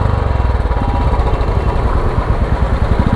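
Royal Enfield Classic motorcycle exhaust running steadily at close range, a continuous loud low thumping engine note with a fast, even pulse and no talk.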